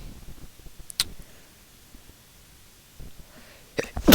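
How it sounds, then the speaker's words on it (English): A person sneezes while recording commentary on a football management game. A brief burst comes early, then a loud, sharp sneeze close to the microphone at the very end. "Sneezing on recording again, that's not a good sign."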